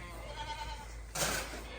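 Goats bleating in a barn with fresh bedding, a steady bleat-like tone rising briefly then a louder burst near the end over continuous low barn noise.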